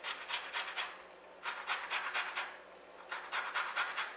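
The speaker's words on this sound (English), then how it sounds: "Now using a little grater, we want to grate just the yellow off of the lemon" A small grater scraping the yellow zest off a lemon for a cheesecake, soft rhythmic rasping strokes in three quick bursts separated by brief pauses, close up and fairly quiet.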